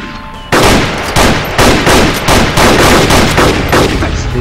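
Rapid sniper rifle shots in the video game DayZ, about a dozen loud cracks fired in quick succession over a few seconds, each with a short echoing tail and no voices over them.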